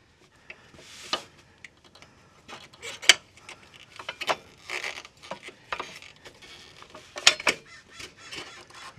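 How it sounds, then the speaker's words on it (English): A jack raising the muffler on a 1995 Mercedes-Benz E320 wagon during a hanger replacement gives close, intermittent metallic clicks, creaks and ratcheting ticks, irregular and fairly quiet, with a few sharper knocks. "I'm just going to use the jack to lift the muffler a little bit."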